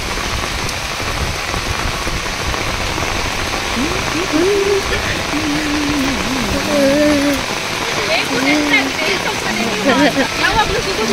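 Heavy rain pours down on a village farm during snail gathering, a loud, dense, steady patter and splash, with voices calling faintly under the downpour in the second half.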